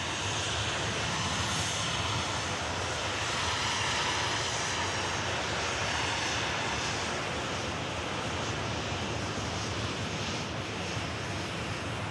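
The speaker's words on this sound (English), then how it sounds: "And off she goes to Tenerife South, the Jet2 flight" A Jet2 airliner takes off from the runway at Manchester Airport bound for Tenerife South, its engines a loud, sustained roar that swells slightly and holds steady across the whole stretch, heard from nearby with no speech.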